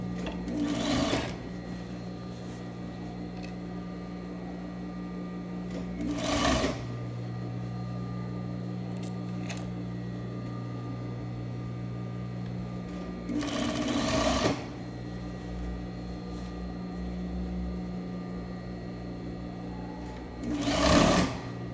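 A domestic sewing machine stitches a 1/2-inch seam along a skirt or trouser waistband, running in a steady low hum with four short, louder bursts of fast stitching spread across the clip and no talk over it.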